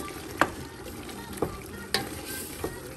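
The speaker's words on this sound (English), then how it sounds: "so stir fry this a little bit more" Ingredients for a Khmer lemongrass pork rib stew are stir-fried in a pot, with four sharp spatula scrapes and clinks spaced over a soft, low sizzle.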